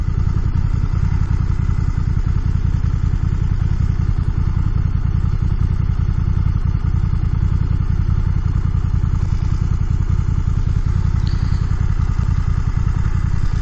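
A BMW F900XR motorcycle cruises along a road between open rice fields, its engine droning steadily and continuously up close with heavy wind rush and no voices over it.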